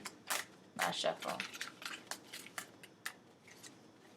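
Quick papery riffling and soft slaps of tarot cards being shuffled, a dense burst followed by a few scattered flicks, close and fairly quiet.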